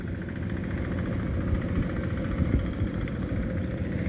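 Farm machine engine, a rotary tiller used for tilling soil, idling with a steady low mechanical drone and faint knocking vibration, constant and fairly close, no voices.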